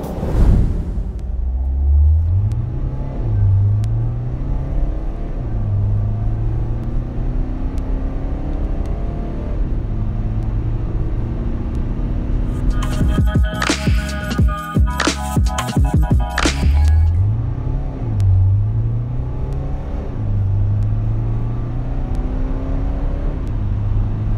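A Volkswagen T6 van drives along a dry road, its engine rumbling and rising through repeated gear changes under hard acceleration, with a brief burst of clattering noise midway; loud and close throughout, no talk.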